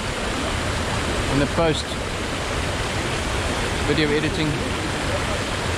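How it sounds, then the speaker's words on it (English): A waterfall pours steadily down through trees as a dense, continuous roar from start to end, with someone talking faintly over it. "That's the waterfall coming down."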